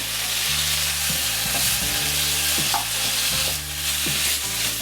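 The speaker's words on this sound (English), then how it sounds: "So we're only looking to sear the meat." Beef chunks sear in a hot pan for a slow cooker tikka masala, a loud continuous sizzle broken by repeated scraping stirs in a loose rhythm, close up with no talking.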